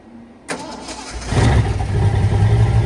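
A big-block 460 V8 in a truck cranks and fires up after sitting for a week, a sharp start followed by a loud, rumbling idle that settles in close by.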